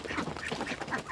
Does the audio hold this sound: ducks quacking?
yes